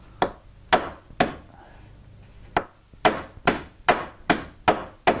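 A hammer drives a nail into a wooden joist during sill plate repair work, with about ten sharp, close strikes in uneven bursts, some ringing briefly, separated by short pauses.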